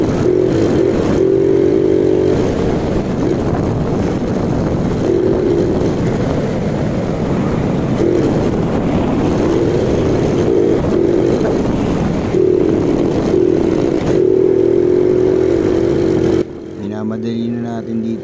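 Motorcycles ride a winding mountain road through cool forest, their steady engine drone rising and falling continuously at close range, with a brief drop in the noise near the end.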